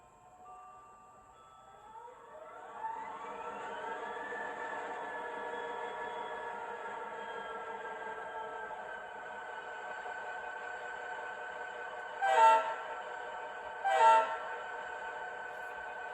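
A model train locomotive's Scale Sound Systems dual-speaker sound unit: a rising electric whine settles into a steady drone, then two short, loud horn blasts sound about two seconds apart.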